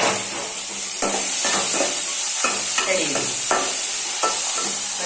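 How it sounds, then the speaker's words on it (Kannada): Garlic and ginger fry in a hot pan for a jackfruit seed and banana curry, with a steady close sizzle and repeated scraping stir strokes throughout. "ಸ್ವಲ್ಪ ಫ್ರೈ ಆಗಲಿ ಈಗ ಚಂದ ಇದು ಫ್ರೈ ಆಯ್ತು"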